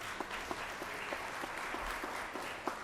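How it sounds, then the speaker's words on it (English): Applause in the Georgia Senate chamber, a fairly quiet, steady patter of clapping from a distant gathering, with a few sharper claps popping out at irregular moments. "Let's give her a big round of applause"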